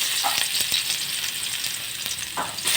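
Garlic sautéing in a pan, a steady bright sizzle throughout with a few soft clinks of a utensil, no talking over it.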